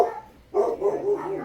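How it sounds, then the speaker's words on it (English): Small pet dogs bark from another room of a house, giving a couple of short, moderately loud barks in quick succession. "sorry for the dog barking"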